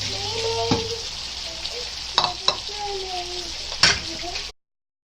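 Green peas and cauliflower stirred and frying in a pan, with a continuous sizzle broken by several sharp scraping strokes of a spoon while a voice is faintly heard in the background.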